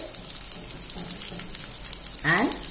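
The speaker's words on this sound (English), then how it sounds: "In medium flame you are supposed to shallow fry them." Patties shallow frying in oil in a pan over a medium flame, a steady close sizzle throughout with a short louder burst near the end.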